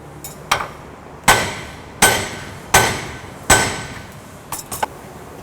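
A hammer knocking a cotter pin from the lower ball joint of a 1967-72 Chevrolet C10 truck: sharp metallic strikes, four evenly spaced heavy blows with a few lighter taps before and after, close and loud.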